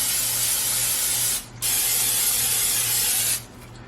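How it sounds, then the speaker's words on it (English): Cooking spray hisses onto baking pans for a turkey pasta casserole meal prep: two steady, close bursts of loud aerosol spray, about a second and a half and two seconds long, separated by a brief pause, with no talking. "I'm going to go ahead and just spray my pans."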